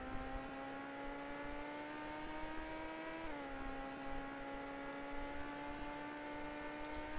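Steady engine drone from a car in a mobile online racing game on Android, holding a constant pitch that climbs gradually, dips briefly around the middle, then settles, with no talking.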